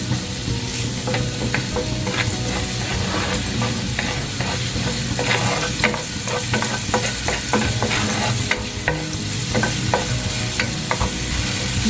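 Garlic fries in a pan with a loud, continuous sizzle and frequent sharp spatter crackles, joined by stirring sounds throughout, close and without any talk, while crispy chicken in sweet chili sauce is being prepared.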